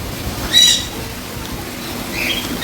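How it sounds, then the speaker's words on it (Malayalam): Birds in an aviary give a couple of brief, high chirps over a steady wash of background noise, heard moderately close. "പക്ഷികളൊക്കെ ഇവിടെയൊക്കെ ഉണ്ട്."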